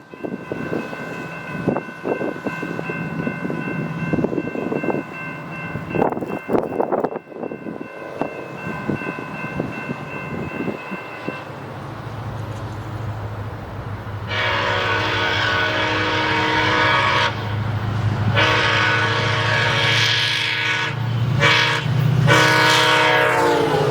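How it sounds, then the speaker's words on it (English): A SunRail commuter train sounds its horn while approaching, then rumbles past loudly with steady wheel noise and another long horn blast, close by, in Poinciana, Florida. "northbound SunRail P320 would be highballing its way north towards DeBary"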